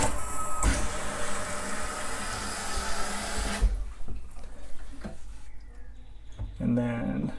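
Water rushes under pressure through the valves of a newly installed Delta kitchen faucet, a loud steady hiss for several seconds that then drops to a quieter trickle with a few clunks.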